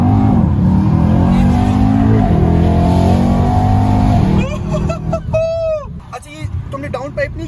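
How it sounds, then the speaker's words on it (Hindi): A Mercedes-AMG E63S Carbon Edition with its stock AMG sport exhaust revs hard and loud nearby, the engine note rising and falling through several blips before a sharp squeal, with people talking over it. "ये स्टॉक एग्जॉस्ट है, स्पोर्ट एग्जॉस्ट है AMG का."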